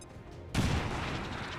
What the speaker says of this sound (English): Just throw a casual little grenade.